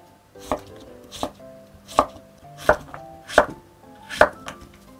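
A knife cuts a zucchini (aehobak) into thick slices on a board: six or seven distinct, evenly spaced thunks about every two-thirds of a second, close and clear with no voices.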